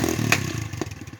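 A Red Charger motorcycle fitted with a new, louder muffler revs up close, its engine note rising and rumbling with a sharp crackle partway through.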